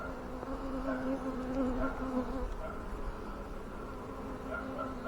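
Honey bees at an apiary hive, a steady, close swarm-like drone with a continuous buzzing hum holding throughout, no other sounds standing out.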